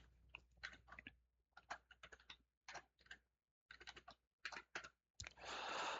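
Bursts of keystrokes on a computer keyboard as a password is entered, clustered clicks with short pauses between groups, close and clear, ending in a brief rush of broadband noise.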